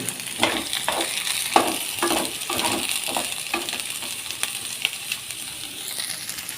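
Pieces of white brinjal fry in hot oil with a steady, close sizzling hiss, punctuated by soft rhythmic scraping and tapping as they are stirred; no voices.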